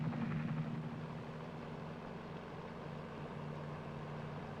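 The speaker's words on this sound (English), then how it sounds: "the other helicopter is landing the Pathfinders who will operate the various landing sites" A 1950s Army helicopter landing a pathfinder team, a steady low rotor and engine drone with a faint hum above it, holding an even level from start to finish.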